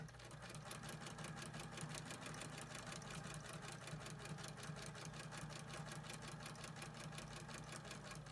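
Sewing machine stitching a ribbon double welt pocket, a steady rapid rhythmic whir of needle strokes running continuously at a quiet, close level.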